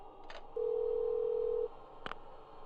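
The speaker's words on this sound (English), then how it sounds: "I guess let's have a talk on the phone" A telephone in the video game Parasite Eve 2 gives a steady electronic tone lasting about a second, with short clicks before and after, over a faint background hum.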